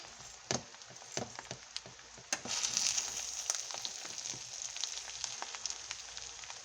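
Onions sizzle in a pan for spaghetti with shrimp, a bright continuous hiss broken by sharp clicks and knocks of a utensil stirring, growing fuller partway through.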